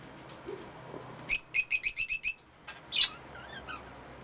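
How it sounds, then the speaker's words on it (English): Lovebirds give a rapid run of about six sharp, high chirps in a row, followed by a lone call and a few fainter tweets, close by against a quiet outdoor background. "It's 2 lovebirds down there, 3."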